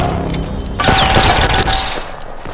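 A loud burst of rapid gunfire comes from the police shooter game DCOP. A quieter lead-in gives way to a dense, close volley that fades out near the end.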